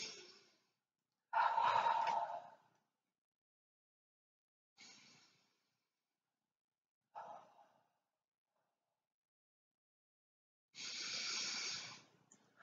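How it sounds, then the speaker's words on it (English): Slow, deep breaths in and out during a centring exercise, heard as several soft airy hisses separated by long silent gaps, close and quiet. "we'll do our usual three breaths, in and out to centre"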